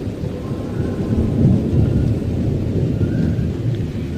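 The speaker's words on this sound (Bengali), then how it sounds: "টিপ টিপ করে বৃষ্টি পড়ছে আর মেঘ ডাকছে আস্তে আস্তে" Light rain falls steadily while deep, rolling thunder rumbles in the distance, fairly loud and continuous with no voices.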